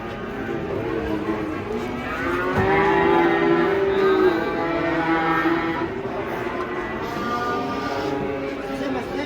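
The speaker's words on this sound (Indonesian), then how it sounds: "Sapi berbulu unik." Large cattle being unloaded from a truck for Qurban give a long, loud moo near the middle, with lower lowing around it and people talking and calling out throughout.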